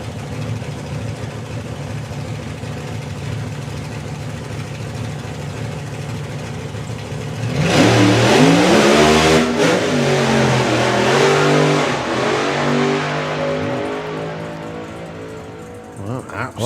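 A drag racing car at a Doorslammers event launches and spins its tyres. A steady engine drone is followed by a sudden loud, rising roar of revving and wheelspin lasting several seconds, then fading. People talk over it.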